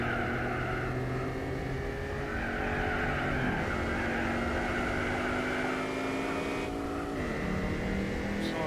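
Several racing cars in Gran Turismo 4, a Camaro and a TVR among them, drone continuously with steady engine tones that rise and shift pitch, loud and close throughout, with no talk.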